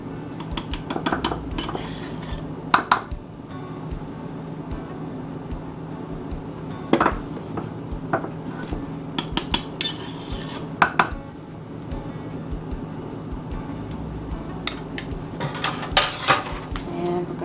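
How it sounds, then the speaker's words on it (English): Flour being stirred into zucchini fritter batter, a spoon scraping and clinking against the bowl in steady, near strokes with a few sharper knocks. "you're basically just going to stir this all together"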